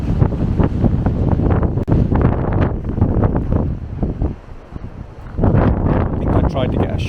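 Strong wind batters the microphone on a rocky coastline, a loud continuous roar with gusty buffeting, while someone speaks underneath it.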